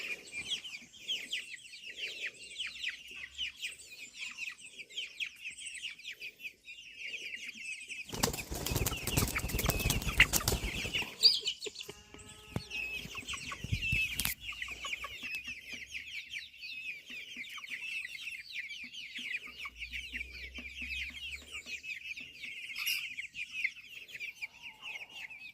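Cream Legbar chickens in a large layer pen keep up nearby clucking and chattering throughout, with a loud burst of wing flapping in the middle and a few sharp squawks.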